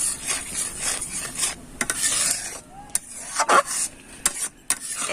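A spoon stirs tamarind pulp into thick homemade tomato sauce in a pan, producing irregular scraping and rubbing strokes with soft clinks against the metal, close and moderately loud.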